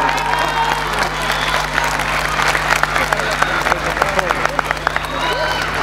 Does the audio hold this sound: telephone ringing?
no